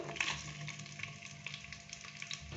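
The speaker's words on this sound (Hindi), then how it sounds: "ऑयल को पहले थोड़ा सा गर्म करेंगे और फिर हम इसके अंदर बारीक कट किया हुआ प्याज डालेंगे" Finely chopped onion dropped into lightly heated oil for a cabbage and pea sabzi, giving a faint, steady sizzle with small crackles and a few soft stirring clinks, alone and close.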